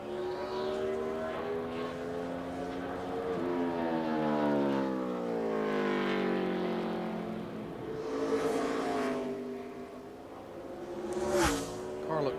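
A NASCAR race car at the 2007 Circuit City 250 makes a qualifying lap, its engine note rising and falling in steady sweeps as it passes through the turns, loud and continuous with a brief sharp peak near the end.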